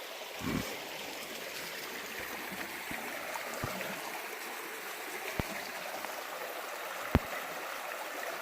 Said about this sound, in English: this is a beautiful little mountain stream